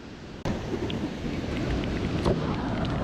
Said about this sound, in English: looks like we're getting a bit of a rain